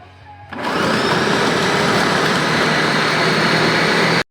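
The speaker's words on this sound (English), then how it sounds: "Right into the blender with this. We're actually going to go twice and you will see why in a second. So let's hit puree." A blender purees spices and hot sauce for a spicy shrimp gazpacho, starting after a brief quiet moment and then roaring at a loud, steady whir until it cuts off abruptly.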